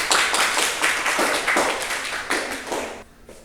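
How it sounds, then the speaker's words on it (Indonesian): Classroom applause, a burst of brisk overlapping hand claps from students that tapers off toward the end. "Tepuk tangan."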